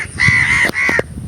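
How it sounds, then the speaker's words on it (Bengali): Crows perched over a house near a floodplain wetland in Bangladesh give two loud, close harsh caws in quick succession, each drawn out and nasal, with brief rough sounds between them. "এই যে ঘরের উপরে কাকগুলো দেখতে পাচ্ছেন"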